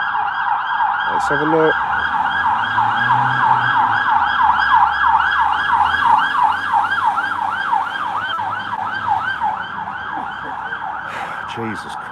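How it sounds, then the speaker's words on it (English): Police siren wailing in a steady, rapid up-and-down cycle, loud and sustained through the whole stretch, on a city night in Leeds, with someone briefly talking over it. "that's the sound of the police"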